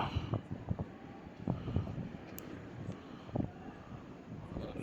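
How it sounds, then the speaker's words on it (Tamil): Cold wind blowing outdoors under a cloudy sky, caught on a mobile phone microphone as gusty rumbling buffets that rise and fall in uneven bursts, with no talk over it. "காற்று நல்ல குளிர்ந்த காற்று அடிக்குது."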